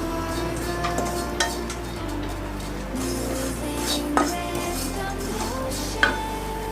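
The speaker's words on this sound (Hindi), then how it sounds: "खरबूजे के बीज को तड़कने की आपको आवाज़ आ रही होगी" Continuous sizzling and crackling of melon seeds toasting in a hot pan with coriander for panjiri, with scattered sharp pops and occasional stirring scrapes, close and steady.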